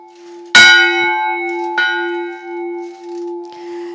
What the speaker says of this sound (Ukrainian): Звуки цих дзвонів жителі Гукливого та його околиць чують лише один раз на рік